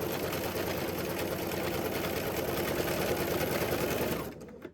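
A sewing machine runs a long decorative stitch along a crossbody bag, a close, steady rapid whir that continues unbroken before stopping abruptly near the end.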